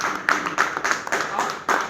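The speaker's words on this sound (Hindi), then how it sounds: "थोड़ा दीपेश से तालियां होनी चाहिए" An audience at a network marketing talk claps in a short burst of fairly even, close claps, mixed with some voices.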